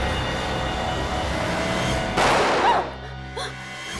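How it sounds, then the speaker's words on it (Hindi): One sharp gunshot from a Hindi crime drama bursts out midway through a steady noisy background, then the scene drops to a quieter hush with a faint trailing sound. "एक ही गोली की आवाज सुन के ये तो सुधर गई अभी ये।"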